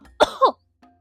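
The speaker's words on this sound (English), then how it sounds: "exaggerated coughs." Two loud, exaggerated coughs burst out in quick succession, followed by a faint short throat sound and then silence.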